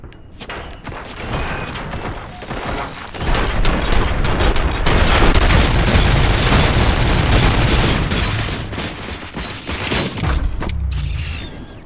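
Sustained gunfire in the video game Robocop: Rogue City, loud dense bursts of shots and mechanical clatter building after a quieter start and staying heavy for most of the stretch, with no talk.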